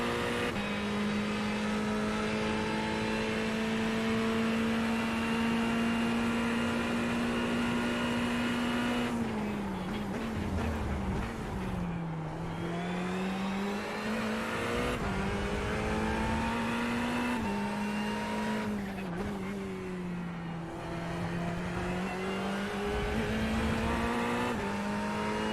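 Race cars lapping Road America in a sim racing endurance event, including an Audi and a BMW, a loud steady engine drone that dips and climbs through gear changes and corners, with other cars passing nearby.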